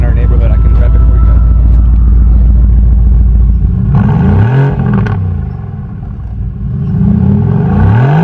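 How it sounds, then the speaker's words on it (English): A Mercedes AMG GTR engine idles with a deep, loud rumble, then is revved several times in rising and falling sweeps that roar and settle back, close by at night in a residential street. "since we can't rev it in our neighborhood, I can rev it for you"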